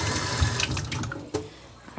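Water from a cup poured into a cooking pot, a splashy, gurgling pour that is loud at first and then tapers into trickles, followed by a brief clunk near the end.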